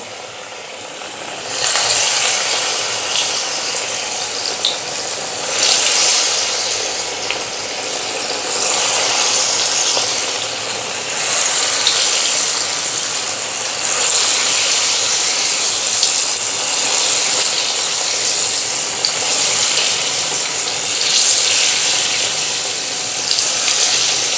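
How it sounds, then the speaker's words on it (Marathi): Chana dal bhaji deep-frying in oil over a medium gas flame, giving a loud, steady, broadband sizzling hiss that swells slightly in waves and runs without a break, with no voices. "आता आपण छान खरपूस रंग येईपर्यंत मिडियम गॅसवरती ही भजी तळून घेऊयात"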